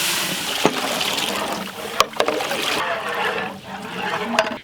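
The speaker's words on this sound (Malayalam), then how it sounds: "വെള്ളം ഒഴിക്കാം" Water splashes and trickles steadily into a large pot of beef and rice, with a few sharp clinks along the way.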